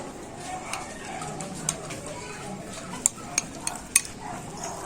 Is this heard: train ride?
no